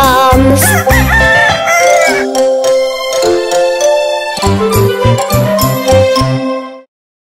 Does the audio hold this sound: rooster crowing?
yes